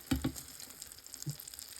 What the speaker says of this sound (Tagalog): At ayan na nga, piniprito natin yung tortang talong.